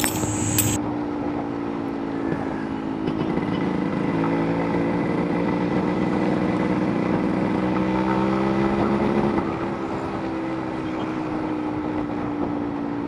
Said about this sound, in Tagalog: Ngayon patignan nyo yung andar at kung anong masasabi nyo sa motor na